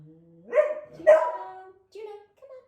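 Juno the dog giving two close, loud barks with a rising whine before them, followed by a couple of shorter softer yips.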